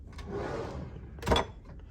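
A drawer in a hotel room is pulled open with a soft wooden sliding rub, then a single sharper knock or clunk as it stops, close and moderately quiet.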